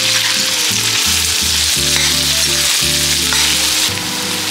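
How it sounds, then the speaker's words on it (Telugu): Chopped garlic and curry leaves fry lightly in a pan, giving a steady, close hiss of sizzling oil that runs unbroken throughout, with tonal background music underneath. "చాప్ చేసి పెట్టుకున్న వెల్లుల్లిపాయలు, కరివేపాకు వేసి కొంచెం ఫ్రై చేసుకోవాలి."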